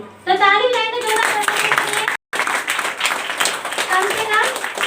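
Applause breaks out with a voice over it, a quick burst of many hands clapping close by, briefly cutting out before resuming amid chatter.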